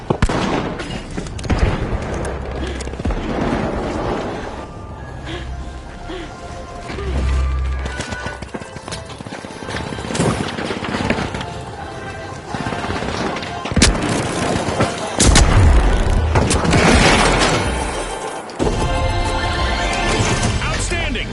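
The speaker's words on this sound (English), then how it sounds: "Frag grenade out!" Frag grenades go off amid chaotic gunfire in the arena shooter The Finals, several heavy blasts and crackling bursts over a dense, continuous battle mix with an announcer and player voices talking over it.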